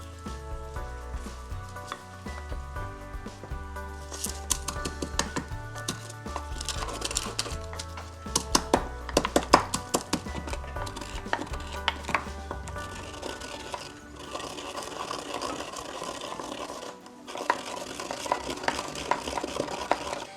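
Whole spices for rice pilau crushed by hand with a little salt, a long run of irregular knocking, grinding and scraping clatter, close and fairly quiet, with brief pauses and no talk.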